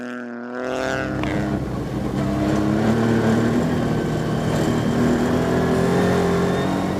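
A rally car engine roars past at speed on a snowy Big White Winter Rally stage, rising from near silence into a loud, sustained high-revving drone that holds steady to the end.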